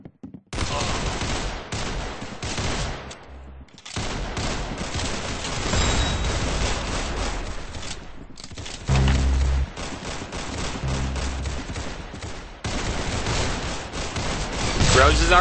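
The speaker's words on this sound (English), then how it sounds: "That's some beautiful shooting right there." Continuous rapid gunfire from the Roblox game Arsenal, loud, dense bursts with brief gaps, nearly filling the whole stretch, with talk mixed in.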